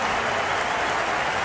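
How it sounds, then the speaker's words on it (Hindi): A stadium crowd at an India vs Pakistan T20 cricket match applauds a six, a dense, steady wash of clapping and roaring that fills the whole short stretch with no pause. "तालियों की गूंज पूरे ग्राउंड में सुनाई दे रही है इस छक्के के साथ"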